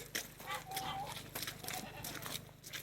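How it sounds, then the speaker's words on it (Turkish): Goats bleat and jostle over freshly poured low-cost feed, with dense chewing and rustling mixed with scattered calls close by. "Şimdi keçilere dökeceğim. Bak nasıl yediğini göreceksiniz."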